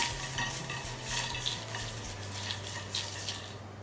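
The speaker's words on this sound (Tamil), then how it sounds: "நம்ம பொரிச்சு வச்சுருக்க சிக்கன் அப்படியே உள்ளே சேர்த்துட்டு இதை லைட்டாக நம்ம புரட்டிட்டு ஸ்டவ் ஆஃப் பண்ணிடலாம்" Fried chicken being tossed with curry leaves in a hot pan for street-style Chicken 65, a steady close sizzle with soft scraping stirs and faint utensil clinks throughout.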